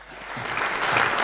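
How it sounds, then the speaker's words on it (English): Audience applause at a Pasifika celebration, a short burst of clapping that swells a little toward the end. "Give them a round of applause."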